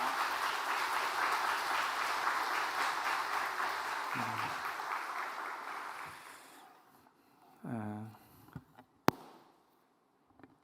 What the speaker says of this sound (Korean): 우리 나오실 때 환영의 박수로 맞아주시면 감사하겠습니다